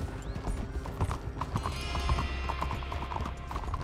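Horse hooves clip-clopping in a steady trotting rhythm in Red Dead Redemption 2, close and clear with tack jingling and faint background game sounds, no talk.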